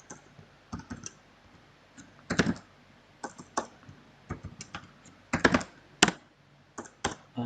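PHP code is typed on a computer keyboard, with irregular clusters of crisp key clicks and taps, some fast runs and pauses between them, close up and alone in a quiet room.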